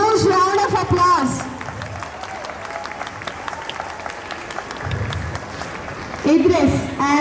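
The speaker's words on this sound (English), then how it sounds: "I request everybody to give a huge round of applause." An audience at a school investiture ceremony breaks into loud applause, a dense clapping roar that fills the hall. An announcer's amplified voice speaks over the clapping at the start and again at the end.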